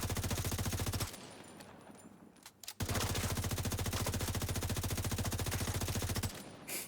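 Rapid automatic gunfire from a video game, a loud close stream of fast shots that cuts out briefly, then resumes in a long sustained burst before stopping.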